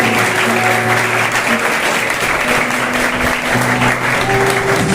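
Loud, steady applause fills the whole stretch as a school audience claps to welcome a guest being honoured at a farewell function for standard 10 and 12 students.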